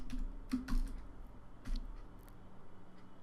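Keys struck on a computer keyboard while writing Android Studio code, a few sparse clicks and short bursts with pauses between them, close and quiet over faint hum.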